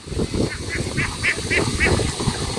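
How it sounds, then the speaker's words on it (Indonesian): Young ducks in a rice-field setting give a run of loud, close, rhythmic honking quacks, about six in quick succession over constant background noise. "Ini bebek kita."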